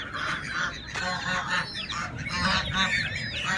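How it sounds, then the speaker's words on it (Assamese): Domestic ducks in a village yard give repeated loud, nasal honking quacks in overlapping bursts, close by and fairly busy, with no speech over them. "হাঁহ কুকুৰা"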